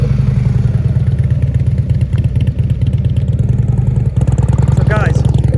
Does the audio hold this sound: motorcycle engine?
yes